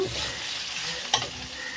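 Ginger-garlic paste sizzles in a hot pan with a steady close hiss, broken near the end by one brief metallic clink of a utensil.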